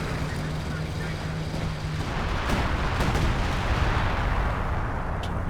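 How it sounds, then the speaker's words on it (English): Artillery fire in a Company of Heroes 2 multiplayer match, a loud, steady rumble of shelling and explosions with a few sharper cracks, a low tone fading out early on. "Dropping the artillery there."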